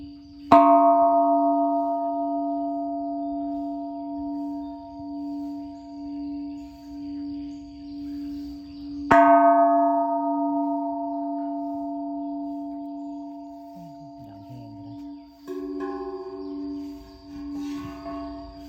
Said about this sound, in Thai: ระฆังก็ดังแห้งเลย